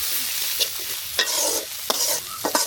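Spice paste of chili and turmeric powder being stirred in an oiled frying pan (kadai) for a pangas fish and pointed gourd curry, with steady close sizzling broken by several sharp scraping strokes of the spoon.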